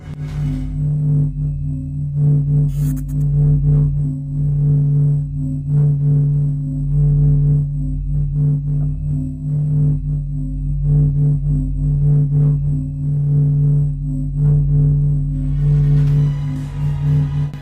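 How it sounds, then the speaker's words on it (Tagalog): Sonified Sun: a deep, resonant drone with steady humming tones that pulse and throb gently, sustained the whole time. "Ganito ang tunog ng araw"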